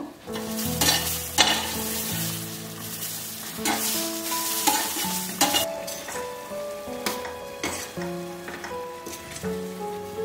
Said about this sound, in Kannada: ನೋಡಿ, ಬೆಂಡೆಕಾಯಿ ಈ ಥರ ಚೆನ್ನಾಗಿ ಫ್ರೈ ಮಾಡ್ಕೋಬೇಕು ಸಣ್ಣ ಉರಿಲೆ.